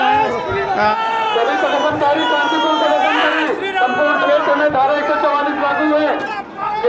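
A crowd of protesters gathers at a political protest against the chief minister, Bhupesh Baghel, over housing. Loud, dense babble of many voices runs continuously, with nearby shouts and talk rising above it.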